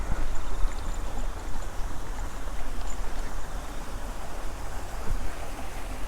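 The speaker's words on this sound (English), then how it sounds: "So here's a waterfall." Waterfall in Shosei-en, a historic strolling garden in Kyoto, heard as a steady, broadband rushing wash of falling water, close and fairly loud, with no voices over it.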